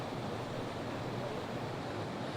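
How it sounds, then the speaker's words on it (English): Water gushes from a broken water main and flows through a residential street, a loud, continuous broadband roar with no breaks, heard outdoors. "gallons and gallons of water that is rushing through people's homes"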